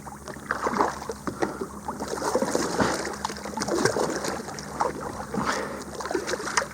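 A fishing boat swings around on a lake between trolling passes, giving a steady wash of water and hull noise with soft splashing and light wind, close and continuous, with no voices.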